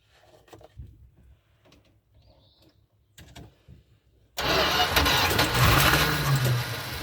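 A 1981 Dodge B250 Ram van's engine cranks after sitting, heard first as faint intermittent clunks and noises, then a sudden loud, sustained rough engine roar that continues to the end.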